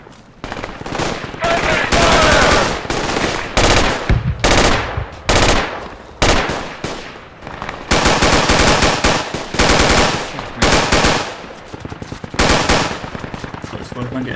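Bursts of machine gun fire in the military shooter game Project Reality, loud and repeated in long and short strings with brief gaps, with some voices in the mix.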